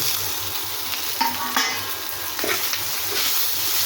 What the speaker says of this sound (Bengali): এখন আমি এই যে পটলটা যে ভেজে নিয়েছি, এই পটলটাকে দিয়ে দেব।